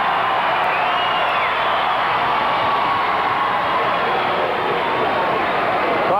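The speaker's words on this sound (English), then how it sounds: "Let the crowd calm down a little bit" A packed high-school basketball gym roars with a sustained, loud crowd din through a triple-overtime game, the wash of cheering steady and unbroken from start to finish.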